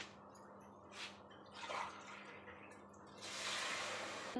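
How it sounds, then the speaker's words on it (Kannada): Water poured into a pot of rice for biryani, faint and quiet at first with scattered drips, then a soft, steady pour swelling toward the end. "ಇದರಲ್ಲಿ 4 ಗ್ಲಾಸ್ ನೀರು ಹಾಕ್ಕೊತೀನಿ."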